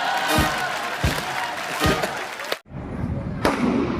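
Several sharp bangs from mirchi bomb firecrackers on Diwali night go off one after another, loud and close, with a crackling burst and a brief drop-out in between.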